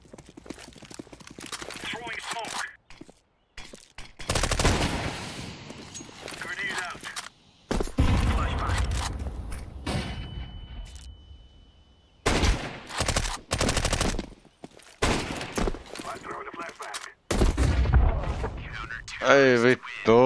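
Gunfire rings out during a Counter-Strike 2 one-on-one match in intermittent loud bursts of rapid shots, separated by quiet gaps, with players talking throughout.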